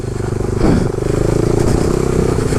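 A motorcycle on studded tires rides through snow in third and fourth gear, with a loud close engine drone and a pulsing rumble, plus some clatter and scraping underneath.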